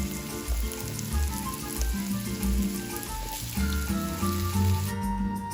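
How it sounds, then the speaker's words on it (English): Lima beans sauteing in a pot for a Haitian vegetable stew give off a steady, close sizzle and frying crackle, with no talk over it. "before adding the vegetables to the lima beans that's sauteing"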